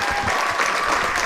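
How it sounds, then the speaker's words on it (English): A cricket crowd at a Glamorgan versus Yorkshire Vikings one-day match applauds a batsman's century, continuous broad clapping from the stands, loud and sustained. "the applause for Colin Ingram's 100 of 97 deliveries"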